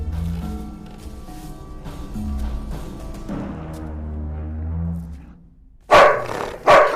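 Dog barks and growls in a supernatural horror thriller film, sharp loud bursts near the end following a stretch of low, droning tonal score.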